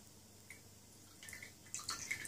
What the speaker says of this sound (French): On sent l'eau qui coule sur les mains.